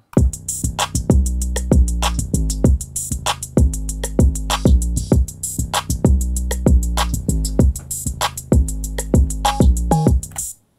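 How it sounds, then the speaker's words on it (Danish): A full drum kit plays a steady, driving groove, with kick, snare and hi-hat hitting together in a repeating rhythm, loud and close. "Hvis vi tager alle trommerne samlet, så lyder det sådan her"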